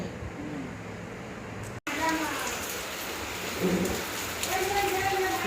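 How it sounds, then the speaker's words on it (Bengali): Heavy rain pours down outdoors in a dense, steady patter onto plants and surfaces, with a voice speaking over it from close by. "বৃষ্টিতে না তুলসী গাছগুলো একদম ভালো স্নান করছে কি বৃষ্টি পড়ছে বাপরে বাপ"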